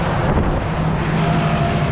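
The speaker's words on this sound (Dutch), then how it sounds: "En hier is dan de trekker!" A tractor passing outdoors in a steady low rumble with a constant drone, loud and close, mixed with wind noise across the microphone, no talking.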